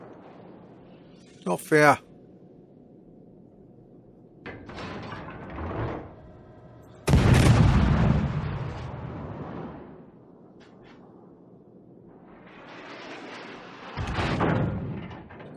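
Naval guns fire in World of Warships aboard the cruiser HMS Hawkins, with several heavy booming blasts and rumbling shell explosions that trail off. A voice speaks briefly between the blasts.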